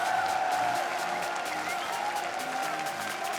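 A large crowd in an esports arena at a world championship match roars and chants USA, a dense, sustained wall of voices and clapping that slowly fades a little.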